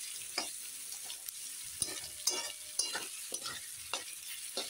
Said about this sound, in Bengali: এখন বেরেস্তার জন্য এই পেঁয়াজগুলো দিয়ে দিলাম, এই বেরেস্তার জন্য ভেজে নেব